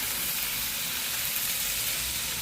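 Fish frying in a pan gives a dense, steady sizzle with crackling hiss, close and loud, holding constant throughout with no voices.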